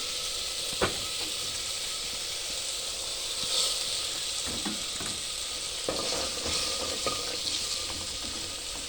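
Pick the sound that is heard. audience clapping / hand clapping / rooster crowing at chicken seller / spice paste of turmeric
spice paste of turmeric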